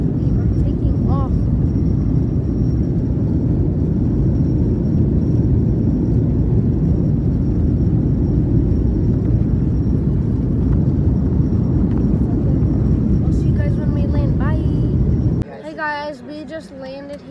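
Airplane cabin rumble on landing in Atlanta, a loud continuous low roar filling most of the clip before cutting off sharply near the end, with faint voices and a brief voice at the close.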